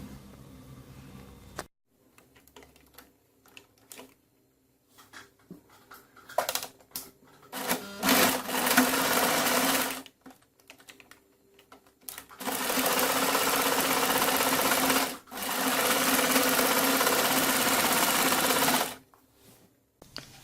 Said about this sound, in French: Donc maintenant, il faut coudre.